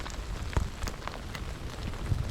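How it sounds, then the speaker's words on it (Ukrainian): Steady rain from a thunderstorm patters on a surface nearby in the Carpathian mountains near Bukovel, a dense hiss with scattered louder drops. "почався дощ"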